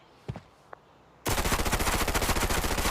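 MPX gunfire in the video game Arena Breakout: after a couple of faint knocks, a loud, sustained automatic burst of rapid, evenly spaced shots begins abruptly and continues to the end, with no voices.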